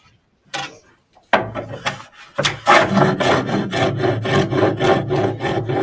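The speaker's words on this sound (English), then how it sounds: "I'll get this last piece of redwood cut to size" A hand saw cuts through redwood up close, starting with a few hesitant strokes, then settling into a fast, steady back-and-forth rasp.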